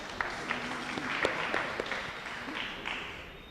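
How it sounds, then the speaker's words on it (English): An audience claps after a history lecture on Barbados, with moderately distant, even applause and a few sharper individual claps standing out. "Give yourself a round of applause"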